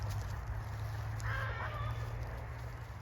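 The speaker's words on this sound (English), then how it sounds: "That's why you can hear the roosters going off in the background." A rooster crows faintly in the distance on a farm in January over a steady low hum, a single drawn-out call partway through.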